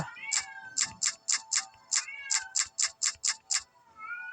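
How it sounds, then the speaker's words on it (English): A cat meows repeatedly in a quick run of short, high calls, with a few longer drawn-out meows mixed in, fairly close and clear. "I wonder if you can hear that meowing"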